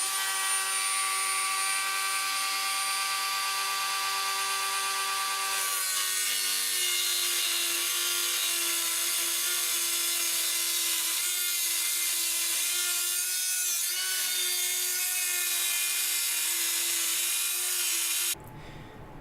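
A power tool saws steadily through computer case side panels, a loud, continuous, high-pitched grinding whine that shifts tone partway through and cuts off abruptly near the end, with no voices.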